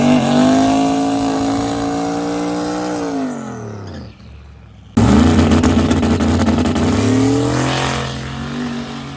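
Turbocharged Nova drag racing car on radial tires roars loud and close, its engine note climbing steadily, cutting out abruptly for a beat, then surging back at full power before slowly easing off, with no voices.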